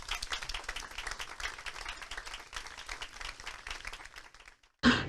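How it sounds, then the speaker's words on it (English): Dense applause from parents and guests at a school garden event rolls on steadily for several seconds, then cuts off abruptly. "I think you need a round of applause."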